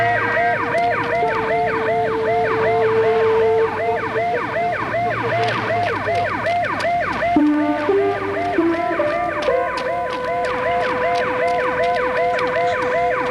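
An ambulance siren wails loud and close in a fast, repeating up-and-down pattern, joined partway through by a second siren with steadier, lower tones, with no talking over it, from a 1988 Korean TV police drama.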